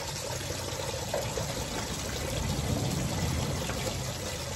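Liquid draining steadily from a car into a bucket while working on an Autopatrol, a continuous close trickling and splashing rush with no voices.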